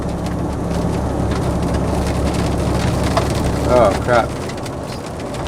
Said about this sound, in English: It's like a mix of rain and snow right now.